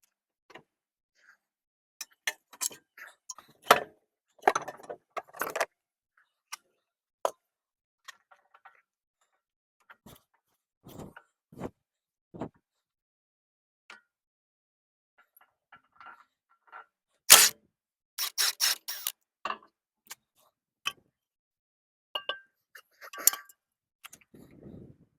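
Sparse metallic clicks and clinks from bolts being removed from a Toyota Camry rear shock absorber, scattered irregularly with quiet gaps between them and a brief louder cluster of ratcheting clicks midway.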